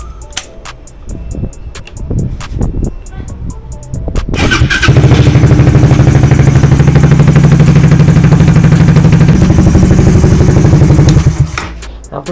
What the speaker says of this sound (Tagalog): pinapainit ko muna sa yung mga motorcycle natin